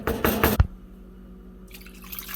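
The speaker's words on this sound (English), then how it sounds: "I'm going to add about a half cup of water in there just to get it covered" Water being poured into a pot of beef stew, a short splashing burst followed by a quieter trickle and drip with no talk.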